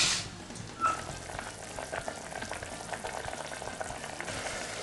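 Onions simmering in a pan for a sweet-and-sour onion sauce served with beef steak, giving a steady close sizzle and bubbling with a small stir near the start, no voices.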